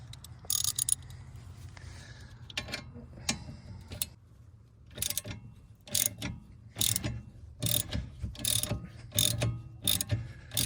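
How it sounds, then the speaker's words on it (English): Ratchet wrench working on the rear brake of a 2019 Honda Insight: quiet, intermittent bursts of rapid clicking from the pawl, separated by short silent gaps. "Get my ratchet here."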